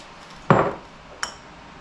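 Glass jars of green beans clink twice, a sharp knock followed by a lighter tap, close and clear in an otherwise quiet kitchen.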